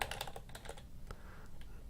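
Rapid, soft clicking of computer keyboard keys typing an email address into a dialog box, an irregular run of close keystrokes with no talking.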